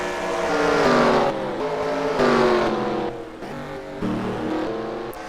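V8 Supercars in a sim racing game, engines roaring continuously as the cars race at Sawmill, with rising and falling revs and gear changes, loud and close throughout.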